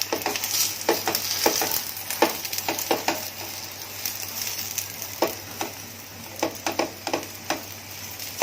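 A paratha fries in oil on a hot pan over a high gas flame, giving a steady close sizzle broken by frequent sharp ticks and spatters.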